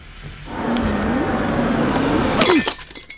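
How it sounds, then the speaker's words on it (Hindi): A car's window glass smashes in a Bollywood action-movie scene. A rising rumble builds for a couple of seconds, then one sharp, bright shatter rings out close by near the end and quickly fades. "लो, अब इस अब्दुल ने गाड़ी का शीशा भी तोड़ दिया।"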